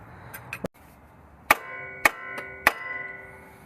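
Three sharp metallic hammer whacks ring out on a Subaru Impreza or Crosstrek ball joint during a ball joint replacement. The strikes are spaced about half a second apart and follow a faint earlier tap, with short clanging decay after each blow.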